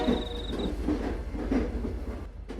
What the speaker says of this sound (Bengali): ট্রেন ধীরে ধীরে একটা টানেলের মধ্যে ঢুকে পড়ে